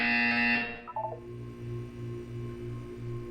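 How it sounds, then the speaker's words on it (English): A game buzzer sounds in Portal 2, a low repeating electronic tone pulsing in short even bursts about every half second, after a fading higher chime, with no voices. "When you hear the buzzer, look up at the ceiling"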